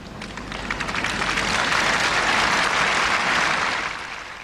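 A tennis crowd at Wimbledon breaks into sustained applause, a dense wash of clapping that swells, holds steady for several seconds and then tapers off, with no talking heard.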